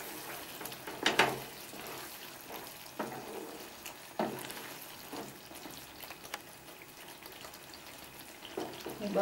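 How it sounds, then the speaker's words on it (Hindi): Aloo matar curry of potatoes and peas simmers covered on a medium flame, giving a soft, steady sizzle broken by a few brief stirring knocks and scrapes, with no one talking. "अब इसको हम ढककर 10 से 12 मिनट के लिए पका लेंगे मीडियम फ्लेम पर"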